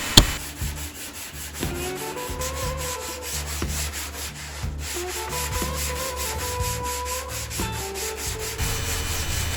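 Sanding body filler on the hood of a 1972 El Camino by hand with 120-grit paper in an X pattern, producing a steady, close scratchy rasp with rhythmic back-and-forth strokes and a faint background hum.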